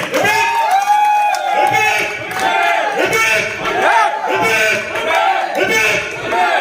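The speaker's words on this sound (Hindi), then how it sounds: "एक जोरदार ताली" Crowd at a bodybuilding championship in Lucknow cheering, whooping and clapping loudly and continuously, a dense close roar of many voices with applause mixed throughout.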